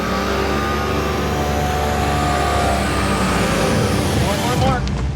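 A vehicle engine held at about 3,500 RPM while climbing Corkscrew Pass toward Phantom Lake, a loud, steady, close drone with a continuous hum, easing off near the end.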